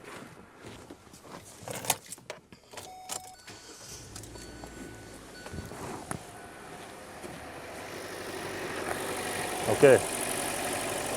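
A Hyundai Elantra engine with surging, rough-running faults idles unevenly after starting, a steady low rumble building over several seconds beneath a brief spoken word and some earlier clunks and handling noise.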